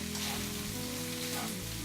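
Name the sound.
food frying in a pan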